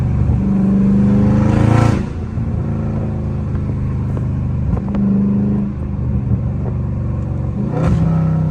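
A loud Dodge Charger Scat Pack V8 revs hard in traffic, its deep exhaust rumble surging at the start, settling into a throaty idle and swelling again near the end, with no talk.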